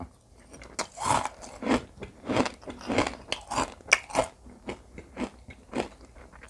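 Close, crisp biting and chewing of a jumbo oyster dressed with crunchy fried shallots, garlic and seafood chili dip. Repeated crunchy bites come in a steady rhythm, loud and intimate with no talking.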